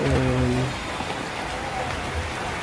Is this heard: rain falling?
yes